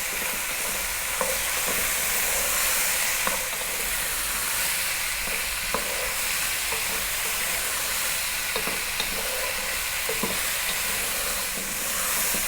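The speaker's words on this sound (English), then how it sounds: "About another 3 minutes on this fairly vibrant heat. I'll be stirring it pretty much all of the time." Zucchini and dried oregano sizzling in a hot pot over a fairly vibrant heat, a steady close hiss with occasional soft knocks of a spoon as it is stirred, no talk.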